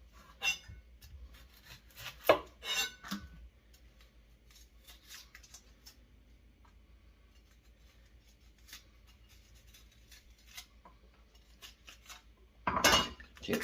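A knife chops small onions for Colorado chili in a home kitchen, giving scattered sharp clacks and scrapes against a cutting surface, with a louder cluster near the start and another at the end.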